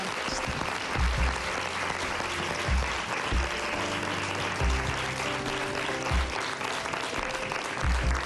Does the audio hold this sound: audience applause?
yes